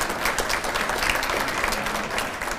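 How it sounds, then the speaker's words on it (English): An audience at a Carroll County Chamber of Commerce centennial economic event breaks into sustained applause, a dense, steady wash of clapping throughout. "how about a round of applause for 100 years for the Chamber?"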